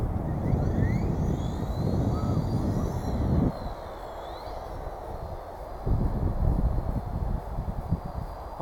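A WL Toys V930 Power Star X2 brushless flybarless RC helicopter on its maiden flight, its motor and rotor whine rising and falling in pitch as it climbs and maneuvers, fairly close and heard without talk.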